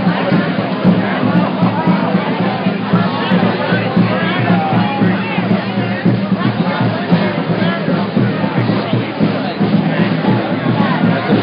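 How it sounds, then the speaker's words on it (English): Dense crowd babble of many voices at a May Day march gathering in New York City, a steady loud hubbub with no single voice standing out, continuous throughout. "this is such a crowd."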